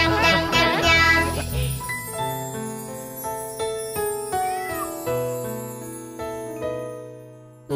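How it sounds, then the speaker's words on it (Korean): A playful children's song about an orange cat, bright plucked and chiming notes, with cat meows mixed into the music over its opening seconds. "야옹야옹 고양이, 냥냥냥냥"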